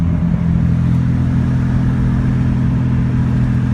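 Twin-turbo 3800-powered Camaro under way on the road, a loud, steady engine drone with heavy low-end rumble that holds constant throughout, no voices.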